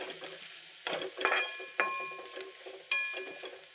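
Turmeric and garam masala being stirred in a pan while cooking kanda poha, with soft scraping and a few sharp metallic clinks over a faint background hiss, fairly quiet and close.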